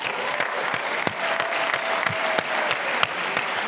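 A crowd at a leadership training event applauds continuously, dense overlapping claps with a few sharper individual hits standing out.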